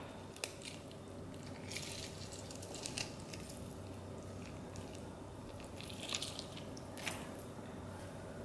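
Sabudana vada dough with salt, roasted cumin powder and lemon being mixed by hand, soft continuous squelching and sticky squishing close up, with occasional wetter slaps.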